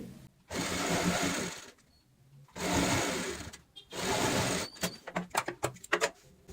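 A sewing machine stitches a cushion cover in three long, steady runs of close mechanical whirring separated by pauses, then a burst of short, quick stitching bursts at the end.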